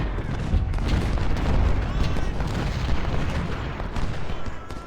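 Massed artillery and musket fire in a Civil War battle in Ultimate General: Civil War, a continuous rumbling din of booms and crackling shots at a steady loud level.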